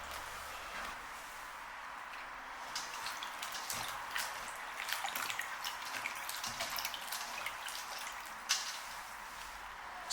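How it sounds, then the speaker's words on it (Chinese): Seafood mushrooms, trimmed of their roots, are rinsed in a bowl of clean water in a home kitchen, with soft, irregular splashing and dripping that stays fairly quiet throughout, with no talking. "然后放入清水中清洗干净"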